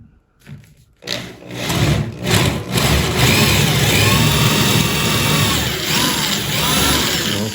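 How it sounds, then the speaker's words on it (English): Power drill boring a center hole through a pine board for a small dresser leg, a steady rising whir that runs loud and continuous after a brief rub at the start. "Drill a hole here in the center."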